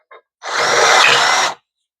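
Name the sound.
power drill drilling with cheap drill bits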